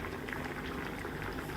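Potatoes boil in water in a covered pot, a steady, dense bubbling and simmer that runs without a break.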